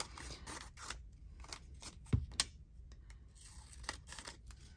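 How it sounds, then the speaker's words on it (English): Scissors snip and crunch through paper in a series of short, crisp cuts, close up and quiet, with one sharper clack midway. "I really like the sound of the scissors crunching through the paper"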